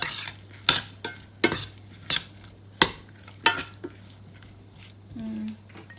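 Simmering jam is stirred slowly in a pot. A utensil clinks and scrapes against the metal in irregular, close strikes, with a softer bubbling or scraping sound near the end.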